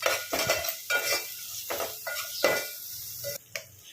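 Ginger garlic paste with turmeric being stirred as it fries in a pan for Telangana-style boti curry: repeated scraping strokes of a metal spoon against the pan over a faint sizzle, close up and without speech.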